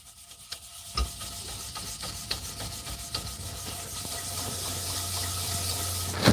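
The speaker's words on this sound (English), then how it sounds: "If you can't hear that water running, maybe just a little bit." Water runs steadily from a kitchen tap during breakfast cooking of fried potatoes, a continuous close hiss with a few sharp clinks and rubbing handling noises on top, no talking.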